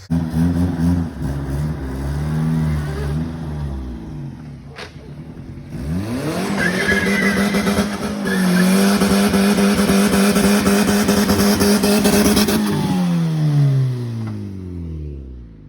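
A turbocharged Honda CRX with a new manifold revs hard under acceleration as its overpowered clutch slips. The engine note rises and falls loudly and continuously, rough and strained, then winds down near the end.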